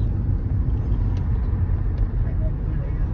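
A car drives in traffic along narrow roads in Australia, with another vehicle close behind. Its steady engine and road rumble is heard from inside the cabin and stays even throughout.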